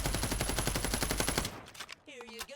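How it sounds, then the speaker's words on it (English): Rapid automatic rifle fire from an assault rifle shot from the hip in the video game Fragpunk, a dense, fast stream of loud shots for about a second and a half, then a short tail of game sounds. "you can hip fire in this game with relatively good accuracy"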